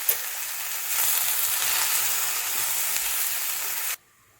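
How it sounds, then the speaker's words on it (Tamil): Cut okra and onion sizzle in a hot pan with salt, a loud, steady hiss of frying that runs for about four seconds and then cuts off abruptly into near silence. "இப்போ வெண்டைக்காயும் வெங்காயமும் கொஞ்சம் வதங்கின பிறகு தக்காளியை போடலாம்."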